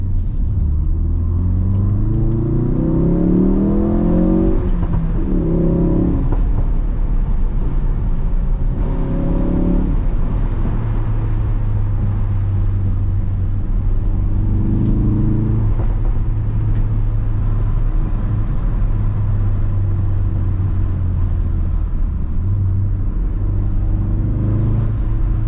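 A Ford Focus RS driven on country backroads, its engine droning low and steady with repeated rising revs through gear changes, loud and close throughout with no talking.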